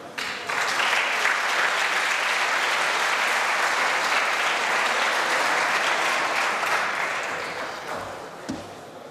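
A hall audience applauds the Polish team at an awards ceremony for a mathematics competition, dense sustained clapping from many hands that holds steady for several seconds, then gradually thins and fades near the end.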